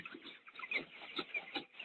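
Farm chickens, 16 days old, clucking and cheeping in a poultry shed, a dense, continuous chorus of many birds with rhythmic swells, fairly faint and without talk.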